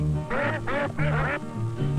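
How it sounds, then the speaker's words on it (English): A duck quacks loudly and close in a series of about four nasal, harmonic calls, the third and fourth running together, heard alone with no talk. "Feathers on its back and it talks with a quack to anyone it might be"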